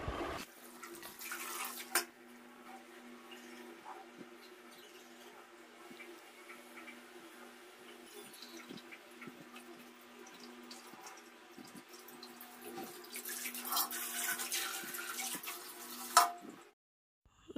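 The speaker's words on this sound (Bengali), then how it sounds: "আমি জলটা ভরে নিই" Water from a tap runs into a container in a steady, fairly quiet hiss, with louder gushing bursts at the start and near the end and small clinks between.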